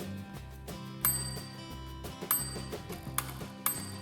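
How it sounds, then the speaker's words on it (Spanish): Electromagnetic bell in a magnetism lab demonstration, driven by positive current from a bench power supply, rings in repeated short bursts with sharp metallic strikes around 1, 2.3 and 3.7 seconds over a steady buzzing hum, close and clear with no talk. "Vemos que cada vez que le meto corriente positiva, se me produce la activación del timbre."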